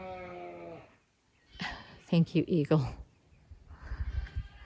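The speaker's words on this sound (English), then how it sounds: "The sheep yelling away," Sheep bleat loudly on a farm, calling to newborn lambs, with several close, wavering cries in a quick run followed by lower bleating at the end; a person speaks briefly beside them.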